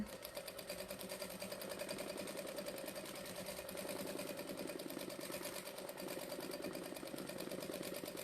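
A sewing machine stitches in free-motion across a quilt, producing a fast, even mechanical chatter of needle strokes that runs continuously and fairly close, with no talking.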